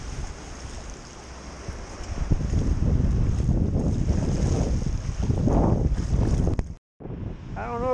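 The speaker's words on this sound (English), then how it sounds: "It's a cold breeze." Cold wind gusts across the microphone by the bay water, a continuous rushing roar that swells in the middle, drops out briefly near the end, then returns.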